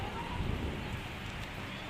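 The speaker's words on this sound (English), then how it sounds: "It's raining right now." Steady rain pours outdoors in a dense, even hiss that fills the whole clip, close and moderately loud, with no distinct thunderclap standing out.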